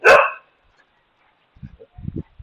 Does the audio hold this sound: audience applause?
no